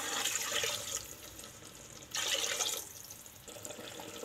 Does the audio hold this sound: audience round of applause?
no